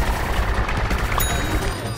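Continuous rapid gunfire in Plants vs. Zombies: Garden Warfare 2, a dense rattling stream of shots with no pauses across the two seconds.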